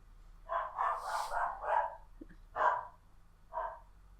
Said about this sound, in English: I'm also sorry if you hear dogs in the background.